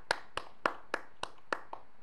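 Sparse applause, about eight single sharp claps spaced evenly and fairly close, with quiet gaps between them and no voices.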